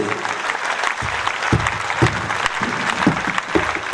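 A crowd claps steadily and continuously at an idol-consecration festival at Shri Avadhdham Ashram, the dense applause filling the whole stretch with sharper hand claps standing out up close.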